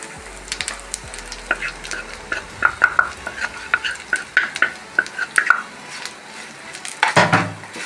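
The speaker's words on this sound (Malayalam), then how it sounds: "നമ്മുടെ കറിവേപ്പില നന്നായിട്ട് ഫ്രൈ ആയിട്ടുണ്ട്" Curry leaves fry in hot oil in a pan for a pickle, with a steady crackling sizzle broken by scraping stirs and metal utensil knocks, close and prominent, ending in a louder burst of sizzling.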